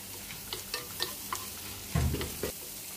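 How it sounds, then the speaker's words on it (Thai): Shrimp stir-frying in melted butter with garlic, a steady sizzle broken by several scraping, clattering stirs of the spatula, with a louder, fuller stir near the end; close and clear, no talking. "ผัดให้กุ้งสุกจ้ะ"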